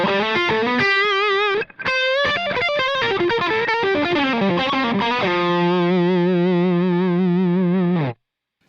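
An electric guitar plays through a Truetone (Visual Sound) VS-XO dual overdrive pedal on its higher-gain C clipping setting with the gain dimed. Loud, saturated notes and chord changes lead into a long sustained chord that cuts off cleanly.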